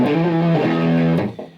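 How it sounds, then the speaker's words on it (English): A heavily distorted electric guitar rings out through an Aleks K Hot Ice Sweet Distortion pedal on a heavier setting, a sustained loud chord that shifts once and then cuts off. "So this is your heavier distortion sound."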